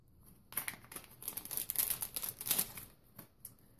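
Quiet, close crinkling and rustling of a packet of Rubik's cube stickers being unwrapped, in irregular bursts of plastic crackle and tearing.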